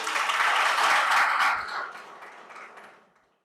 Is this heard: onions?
no